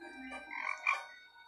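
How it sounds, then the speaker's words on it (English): A caught frog croaks a few times at close range, short raspy calls standing alone against a quiet campsite background. "You caught the frog."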